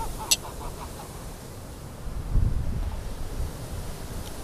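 Wind buffets the microphone in a steady low rumble, swelling into a stronger gust midway, with no one speaking.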